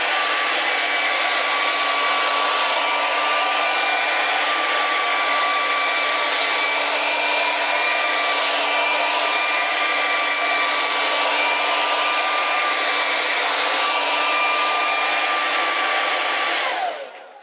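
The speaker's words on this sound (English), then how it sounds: "So I just like to really blow dry the root" A hair dryer blows continuously on wig hair at the roots, a loud, steady, close whirring hiss with a constant motor whine that cuts off at the very end.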